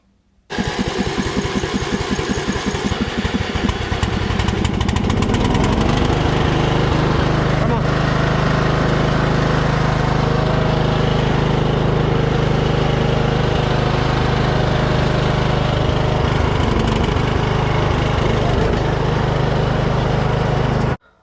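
Riding lawn mower, just back on a tire fixed with green slime sealant, starts up and its engine revs higher after a few seconds, then runs loud and steady with a droning hum through a test drive.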